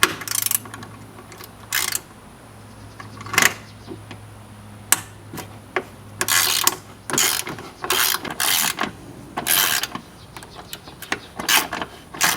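A cheap 1/4 inch ratchet works on painted-over frame bolts, giving close, loud bursts of fast clicking pawl ratchet strokes separated by short pauses, with occasional metallic clanks.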